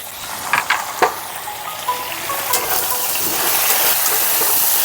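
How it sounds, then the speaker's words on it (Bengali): Potatoes and eggplant fry in hot oil with salt and turmeric, giving a steady close sizzle with a few sharp clinks and stirring knocks early on, then an even frying hiss that holds to the end. "সামান্য একটু লবণ আর হলুদ দিয়ে ভেজে নেব আলু আর বেগুনটাকে।"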